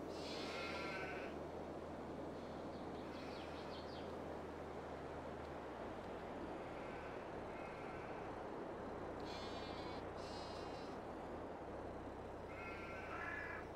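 Sheep in the Farming Simulator 22 video game bleat repeatedly at moderate distance over a steady, dense ambient farm background, with several separate calls spaced across the scene and crow-like caws mixed in.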